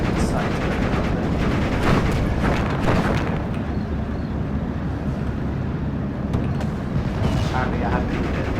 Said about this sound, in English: I see my artillery decide to open up there.